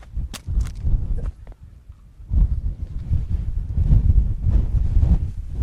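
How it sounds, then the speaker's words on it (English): Strong gusts of wind in St Andrews buffeting a microphone outdoors, loud low rumbling blasts that rise and fall, heaviest in the second half, no talking. "It is a very windy day out here in St Andrews."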